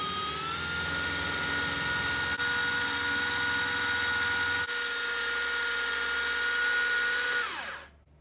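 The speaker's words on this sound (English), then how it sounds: "Now you can chop garlic and other small fruits and vegetables in just a fraction of the time." A small wireless electric chopper motor whirs at a steady high pitch for several seconds while chopping garlic, then winds down and cuts off.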